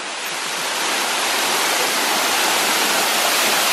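A waterfall roars up close. The dense, loud wash of falling water builds slightly in the first second and then holds a steady, full hiss.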